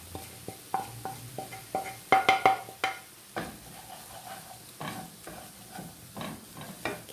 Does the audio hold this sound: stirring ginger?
yes